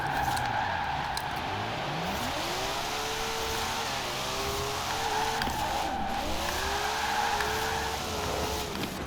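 A 1994 Toyota Celica GT-Four ST205, an all-wheel-drive drift car, drives with a continuous loud engine note that rises and falls through gear changes, with tire noise throughout and no talking.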